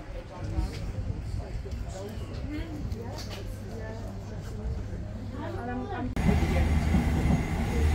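A twelve-coach passenger train pulling into Bedford station in the UK, a low rumbling roll with squealing and rising noise as it arrives, under people talking on the platform.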